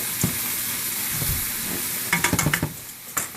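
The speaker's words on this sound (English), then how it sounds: "Give it a quick stir." Penne pasta with spinach and mushrooms being stirred in a hot pan, a steady close sizzle and hiss with soft scraping, then a quick run of utensil clicks against the pan near the end.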